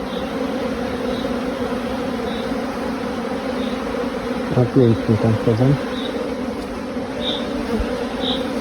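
Dense, steady buzzing of many agitated honeybees close by at a beekeeper's hives, a continuous drone, with a brief spoken phrase in Polish partway through.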